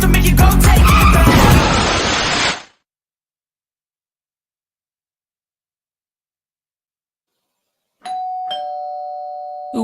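A doorbell gives a clear, close ding-dong after a burst of loud music cuts out to silence, the two tones ringing out sharply alone.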